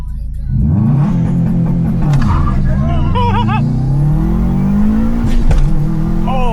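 A 2011 Subaru WRX with the EJ engine pulls hard, its loud engine note climbing steadily through the gear with a brief dip at a shift; a voice speaks over the engine.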